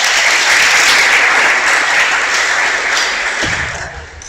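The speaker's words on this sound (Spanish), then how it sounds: "Dale un aplauso a todos" Loud, dense applause from a church congregation fills the space steadily, then thins and fades toward the end.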